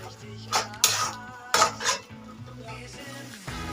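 Spice masala with tomatoes being stirred and fried in a pan, metal spatula scraping and clanking against the pan in several loud bursts over a continuous sizzle.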